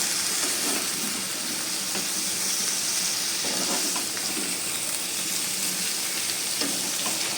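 A soybean mixture fries in a small, crowded pan, giving off a steady, dense sizzle with faint stirring scrapes. The frying stays close and even throughout, and no one speaks.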